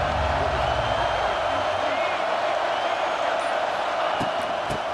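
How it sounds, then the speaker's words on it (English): A stadium crowd in the video game EA Sports College Football 26 roars as a dense, continuous wash of noise throughout, with a commentator's voice over it. "This crowd bringing an ear-splitting welcome to their visitors."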